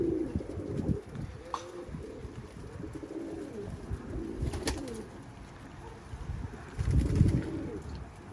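Pigeons coo nearby in soft, low repeated calls, swelling louder toward the end, with faint rustling and no speech.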